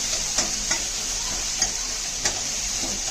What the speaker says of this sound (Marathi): कांदा चांगला हे करून घ्यायचा, भाजून घ्यायचा.